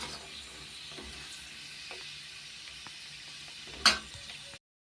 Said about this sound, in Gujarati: તો જો આપણે અડધી જ તળશું પાણીપુરી